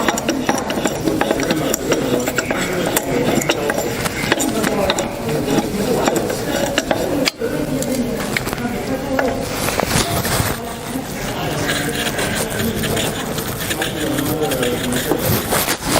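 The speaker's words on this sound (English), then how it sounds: "we run the cutter blocks to make sure that the cutter tips can a little bit move the materials" A spindle moulder's cutter blocks spin with a steady mechanical whir and clatter, loud and continuous with a brief dip partway through, the cutter tips set level with the ripping fence.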